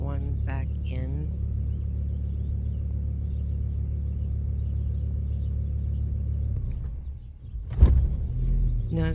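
Volvo engine idling with a steady low rumble, then stumbling and cutting out near the end, followed by a brief loud clunk and a return of low rumble; harmonic voice-like sounds briefly at the start.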